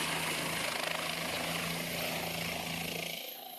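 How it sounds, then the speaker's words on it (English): A helicopter departs in a steady, loud rotor and engine roar with a constant hum, then drops off sharply near the end as it moves away; no voices. "here is when the helicopter is leaving"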